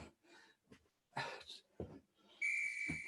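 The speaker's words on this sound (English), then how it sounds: "To the whistle." A loud, steady referee-style whistle blast marks the end of a HIIT yoga exercise interval, sounding for about half a second after quieter voices and breathing.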